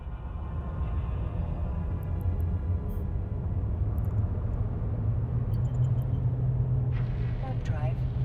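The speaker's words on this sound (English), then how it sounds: "Select the sun in your overview and then warp to it." A spaceship's warp drive in the space game EVE Online hums as a steady, loud, low rumbling drone that never lets up, with a faint rising electronic tone near the end.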